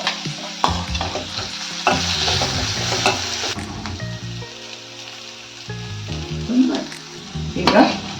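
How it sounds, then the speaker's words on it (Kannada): Chopped onions frying in a hot tempering of oil, asafoetida and curry leaves for a North Karnataka ridge gourd curry, with a steady loud sizzle broken by repeated clattering spoon strokes against the pan. "ಈಗ ಒಗ್ಗರಣೆ ಫ್ರೈ ಆಗಿದೆ. ಈರುಳ್ಳಿ ಹಾಕೋತಾ ಇದ್ದೀನಿ."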